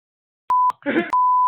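A flat, loud electronic censor tone cuts in twice, a short beep then a longer one, with a brief muffled voice between them over otherwise silent background.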